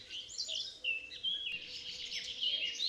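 A small bird near its nest on a porch beam of a forest lodge gives a rapid run of high, sharp chirps and cries, fairly close and continuous over a faint outdoor background.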